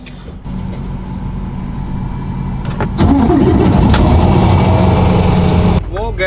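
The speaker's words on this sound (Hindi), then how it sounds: "अभी ये ट्रक निकाला और ये जा रहे हैं।" A truck in Canada starts up with a short crank and catches, then its engine runs louder and rumbles steadily as it pulls away, with people talking nearby over it.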